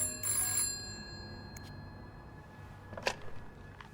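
A telephone rings in the horror video game This Bed We Made, with a short ringing burst near the start and another toward the end over a quiet, hollow room tone.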